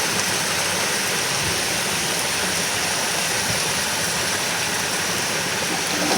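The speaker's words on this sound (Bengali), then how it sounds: "কি সুন্দর তেল ফুটছে" Oil sizzling hard in a pan with kachki fish as the water cooks off, a loud, dense, continuous hiss with no talk over it.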